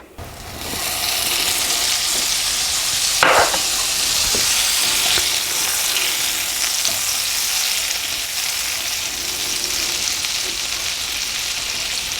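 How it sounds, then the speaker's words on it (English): Butter sizzles and hisses loudly in a hot cast iron skillet, a dense steady crackle that starts right after a soft knock, with a brief sharper spatter early on, then settling into an even fry. "I can actually add my butter to the cast iron skillet"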